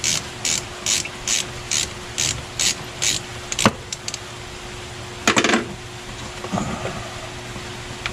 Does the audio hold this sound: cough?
no